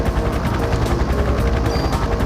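Helicopter in the video game Parasite Eve, a steady, loud rotor drone with a low rhythmic chop, alone without talk.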